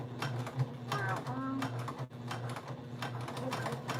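A sewing machine stitches across a tote bag seam in short, close bursts of whirring, with a voice talking over it.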